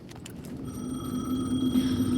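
An in-game telephone rings in Alan Wake 2, a steady electronic tone that builds slightly in loudness over a low rumbling ambience, with no talk.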